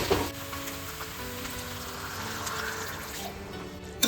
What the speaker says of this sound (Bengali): সামান্য একটু গরম জল দেবো